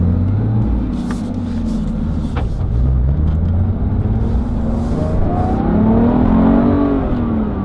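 A Porsche 911 GT3 fitted with a GT3 RS engine and manual gearbox pulls hard, its loud engine note climbing steadily through the revs from inside the cabin.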